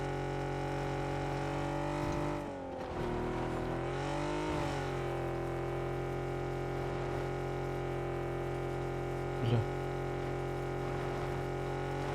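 In-game car engine in the battle royale PUBG revving hard with a steady high drone, dipping briefly as it shifts, then climbing again, loud and close, with a short tire squeal near the end and no talk.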